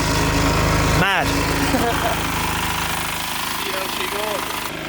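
A generator engine runs loud and steady outdoors beside an inflatable, with a constant low drone throughout and a few short squeaky sounds and brief noises on top.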